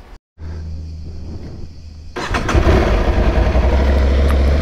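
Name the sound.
Aprilia Tuareg 660 motorcycle engine starting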